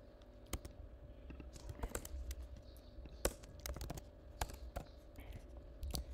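Code being typed on a computer keyboard in Android Studio, irregular close key clicks and clacks in quick uneven bursts over a quiet room hum, with faint low talk.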